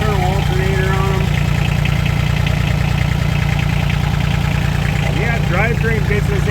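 Kohler diesel engine with an external alternator idles steadily and close, a low, even mechanical rumble with rhythmic knocking pulses that runs throughout, while people talk over it.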